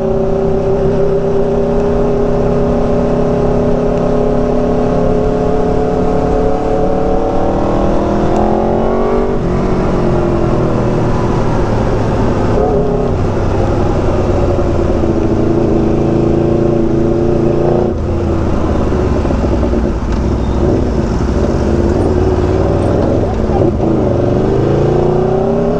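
An Aprilia RSV4 motorcycle on Saigon streets, its engine revving up and down repeatedly with rising and falling pitch, loud and close over continuous traffic noise, with no talking.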